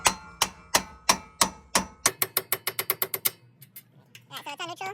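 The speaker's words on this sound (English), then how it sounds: "hit it with the hammer" Sharp metallic hammer blows on an Infiniti Q50 wheel hub while fitting 10mm spacers ring out in a rapid series, speeding up into quicker strikes, followed by a few clinks and a brief voice.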